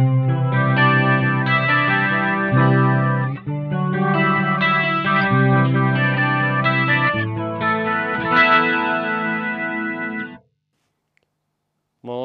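Electric guitar through a BOSS MO-2 Multi-Overtone pedal in mode 2, chords ringing with bright layered harmonics, then cutting off to near silence before a note returns.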